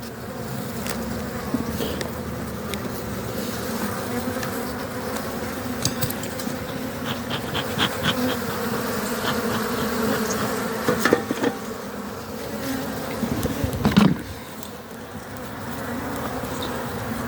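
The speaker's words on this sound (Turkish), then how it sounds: "diğer tarafta da arılar gelmiş. Kovana girmişler şimdi." Dense, continuous buzzing of many honey bees at a hive fills the air close by, with occasional louder passes and faint knocks, no talking.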